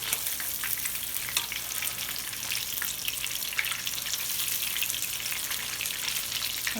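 Fish fries in a pan with a loud, continuous sizzle, dense crackling and spitting oil pops that hold steady throughout, close up and with no voices.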